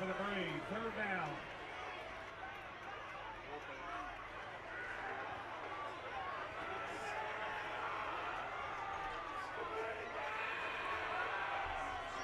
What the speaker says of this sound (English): this Harrison crowd really letting Talawanada have it